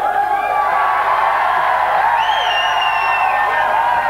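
A big Silver Dome crowd roars and whoops during a 1988 MTV game show broadcast, a loud sustained din with scattered high cheers and shouts blending into a constant wash of noise.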